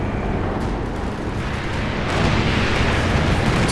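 P-47 air strike explosions in the video game Company of Heroes 2 roll together into a heavy, continuous barrage of booming blasts that swells louder toward the end.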